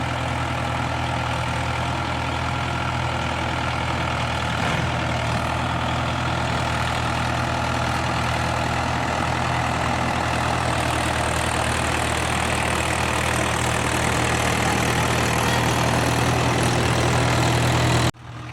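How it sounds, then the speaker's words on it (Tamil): A tractor pulling a rotavator through a field, its diesel engine holding a steady, loud, continuous drone throughout, with no voices over it. "ரொட்டாவேட்டர் வந்து கொஞ்சம் மெதுவாக தான் போகும் ஓட்டவும் முடியும்"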